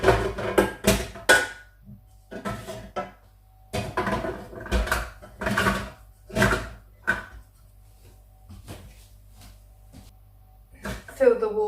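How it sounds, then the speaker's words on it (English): Glass canning jars set down one by one into a pressure canner fitted with a trivet, a series of sharp knocks and clinks with quiet pauses between them, ending with a brief scrape. "Put your jars in."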